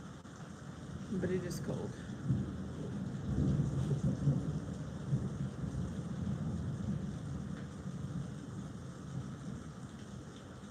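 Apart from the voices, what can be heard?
rain with thunder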